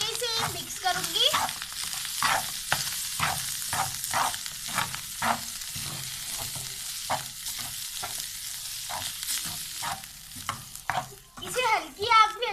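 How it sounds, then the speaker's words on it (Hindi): Spiced bun kebab mixture with black pepper, turmeric and salt roasts over low heat in a pan, a soft steady sizzle broken by a regular run of sharp spoon scrapes and stirs, with no talking. "इसे हल्की आंच पे अच्छे से भूनना है।"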